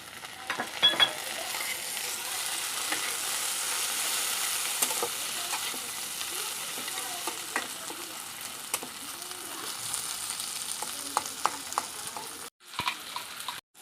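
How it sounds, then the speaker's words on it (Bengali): Finely chopped tomato added to onions already frying in a pan gives a steady, fairly loud sizzle that runs throughout, with scattered light clicks of stirring. "এখন আমি একটা টমেটো খুব কুচি কুচি করে কেটে রেখেছিলাম এই টমেটোটাকে আমি দিয়ে দিব"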